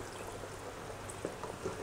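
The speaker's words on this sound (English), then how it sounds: "I have some diluted coconut milk here. That's like half water and half coconut milk. And I'm just going to pour this in" Diluted coconut milk, half water and half coconut milk, is poured into a pot of Thai green curry with winter melon, a soft steady liquid trickle with a couple of faint clinks partway through.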